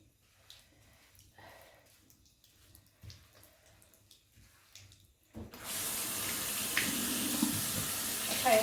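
A tap is turned on to rinse a freshly dyed jumpsuit, with quiet handling noises first, then a sudden loud, steady gush of running water filling the rest of the clip.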